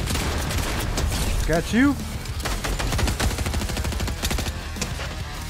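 Rapid automatic gunfire in the Fortnite video game, a dense crackle of shots running nearly nonstop beneath a voice talking over the action.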